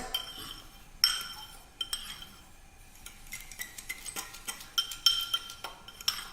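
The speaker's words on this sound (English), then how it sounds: "I'm gonna use a fork here to stir it up." A fork stirring sugar and cinnamon in a dish for cinnamon rolls, making light, irregular clinks and scrapes of metal against the container, close and fairly soft.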